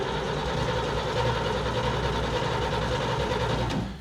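A 1941 Chevy Coupe engine turns over steadily and continuously, a close, loud mechanical churning that holds even for about four seconds before easing off, with no talking over it.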